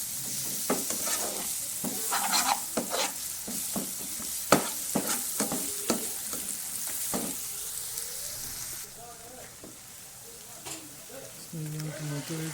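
Coriander powder and ginger garlic paste frying and being stirred in a pan for mutton kofta curry, a close sizzle with repeated scraping stirs, under intermittent talk.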